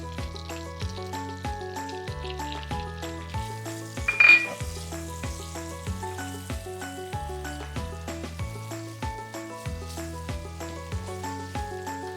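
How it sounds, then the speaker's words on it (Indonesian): Garlic and onion frying in melted butter in a pan, a soft continuous sizzle up close under background music, with a brief clink of a utensil partway through. "bisa kita masukkan dulu bawang putih dan bawang bombaynya"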